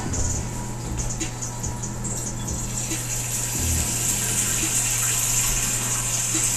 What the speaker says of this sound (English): I'm going to take another pot, put cold water in it.